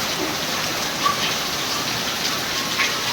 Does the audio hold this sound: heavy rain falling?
yes